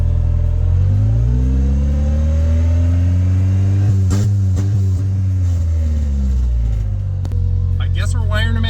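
A car with a K24 engine pulls away after the clutch is let out, revving up loud and close with a rising, sweeping engine note that climbs steadily, briefly dips, and surges again, with voices talking over it.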